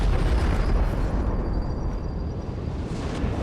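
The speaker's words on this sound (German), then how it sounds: "Haben wir echt die Bombe in die Luft gejagt" A bomb explodes in the video game Little Orpheus, giving a loud, sustained rumbling blast with heavy low-end boom. The roar holds steady and then slowly tails off.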